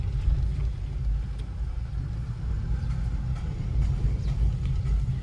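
A car runs along a narrow mountain road and turns left at a junction, its steady engine rumble and road noise continuing close and loud throughout without voices.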